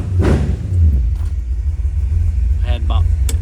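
A 1957 Chevrolet Bel Air two-door hardtop rumbles steadily while driving, a loud low engine drone continuing throughout, with brief voices and faint higher sounds over it.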